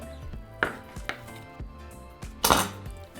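A knife cuts through empanada dough on a hard surface with several close thuds and taps against the board, spaced unevenly, one louder knock near the end, with no talk.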